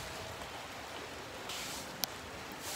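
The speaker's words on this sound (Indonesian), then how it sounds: "Oke, hujan." Steady rain falls as a soft, even hiss, faint and continuous throughout, with one brief sharp tap near the end and no voices.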